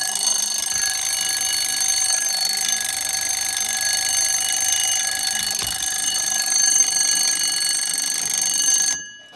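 A Westclox wind-up alarm clock rings loud and steady for about nine seconds as a continuous metallic bell rattle, then cuts off abruptly at the end.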